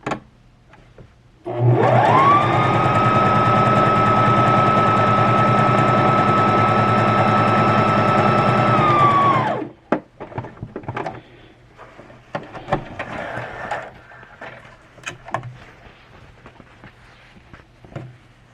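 A beginner Brother sewing machine stitches a wide zigzag, whirring steadily and loudly for about eight seconds before stopping, followed by quieter clicks and fabric handling noises.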